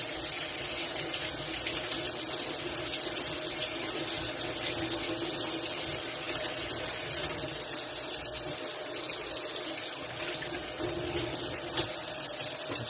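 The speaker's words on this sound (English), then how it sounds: "Just going to wash these by hand so I don't damage them." DeLonghi espresso brew unit parts rinsed by hand under a running tap, a steady broadband rush of water filling the whole stretch with slight surges toward the end, no talking.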